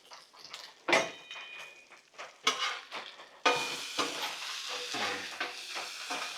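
Bacon frying on a Blackstone griddle, a steady sizzle with scraping and spatula clatter, sharp metallic knocks breaking through and the frying growing denser and louder toward the end.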